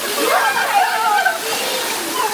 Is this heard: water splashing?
yes